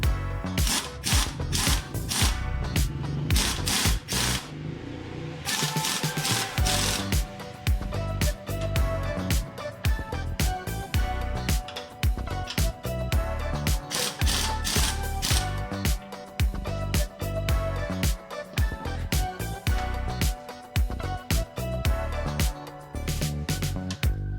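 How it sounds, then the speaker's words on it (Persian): A pneumatic impact wrench and 27 mm socket tighten the strut top nut on a Renault Sandero, hammering loudly in long rapid bursts close by with brief pauses between them. "با کمک بوکس 27 و بوکس بادی مهره سری کمک را خوب سفت میکنیم"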